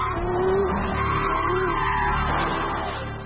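An Ariel Atom sports car drives past with a steady, loud engine note and some tire squeal, sustained throughout.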